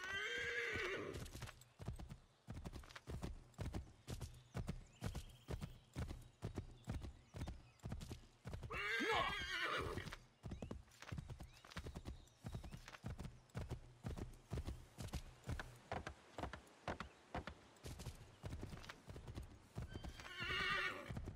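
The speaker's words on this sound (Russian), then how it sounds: "Возьмите лошадь, езжайте!" A horse gallops in Assassin's Creed III, with fast rhythmic hoofbeats drumming steadily for about twenty seconds and loud whinnies breaking in near the start, middle and end, no talking.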